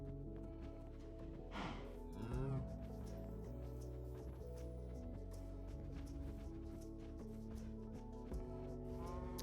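Quiet low mooing from cows in the Minecraft video game, with a brief louder animal call early on amid faint game noises and some talk.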